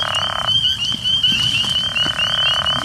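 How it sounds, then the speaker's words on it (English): A frog gives a close, raspy croaking call in short bursts, while spring peepers keep up a steady, high, shrill chorus in the background. "You can hear the peepers in the background on that call."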